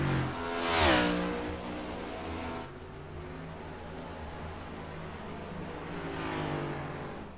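Simulated race car engines at Watkins Glen in iRacing, a loud close pass with a sweeping pitch drop around the first second, then a steady multi-car drone with another engine rising toward the end.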